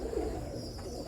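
Pigeons from a Lahore pigeon-flying setup coo in a steady, low, close murmur that fills the short moment without a break.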